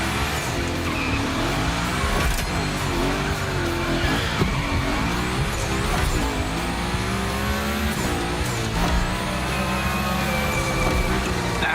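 A car in a Grid Gymkhana racing game slides continuously, with tire squeal and drifting screeches over a steady revving engine and rising and falling pitch sweeps throughout, loud and up close.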